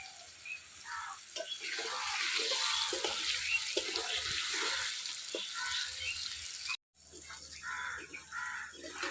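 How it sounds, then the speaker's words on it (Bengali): Potato pieces fry in plenty of oil in a Bengali village kitchen, a soft continuous crackling hiss that drops out briefly near the end and then resumes. "আলুগুলো ফটাফট ভাজা হয়ে গেল"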